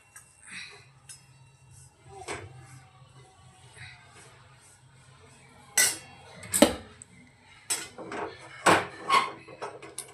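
Grated coconut is dry-roasted and stirred in a pan for homemade black masala, with a spoon scraping and clinking against the metal pan in scattered bursts, close up, over a faint background hum.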